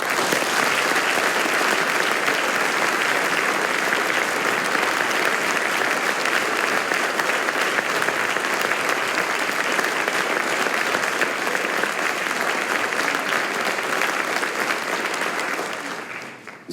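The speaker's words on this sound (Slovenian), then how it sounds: "še enkrat vsem nastopajočim glasno zaploskamo za to izvrstno izveden koncert" Loud, dense applause from a concert hall audience fills a music school's 60th anniversary celebration concert, unbroken for about sixteen seconds before tapering off at the end.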